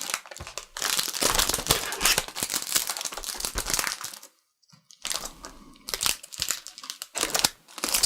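A plastic balloon-stick bag crinkles and crunches as its ends are gathered and fastened with a bread-bag twist tie, loud and close, in busy bursts with a brief pause midway.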